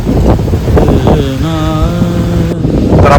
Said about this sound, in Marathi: भरपूर जोराचा वारा पण सुटला आहे